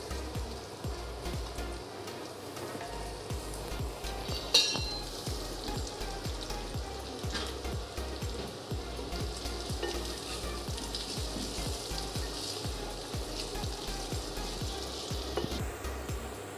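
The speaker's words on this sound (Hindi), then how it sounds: "ये मैंने पैन में ऑयल रख लिया है, अब ये जो पनीर है इसको फ्राई कर लेंगे।" Paneer fries in hot oil in a pan, giving a steady crackling sizzle with dense popping and spattering throughout, fairly close, with one sharper clatter partway through.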